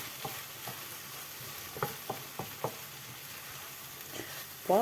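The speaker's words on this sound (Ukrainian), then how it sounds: "Тепер можна все це знов перемішати і тушкувати далі." Chicken stewing with vegetables such as sweet peppers and tomatoes sizzles softly in a pan while a utensil stirs it, giving a few scattered scraping clicks over a steady, low simmer.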